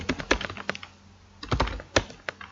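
Quick bursts of close computer keyboard typing while Python code is entered, clustered key clicks with a short pause in the middle.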